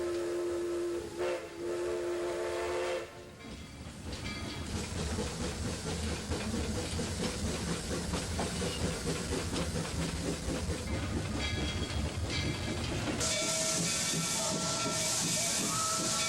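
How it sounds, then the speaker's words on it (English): A steam train at Knott's Berry Farm rumbles and chugs steadily, with a sharp whistle blast near the start and a loud hissing burst of steam toward the end. "This great train, the first that dared penetrate the Rocky Mountains"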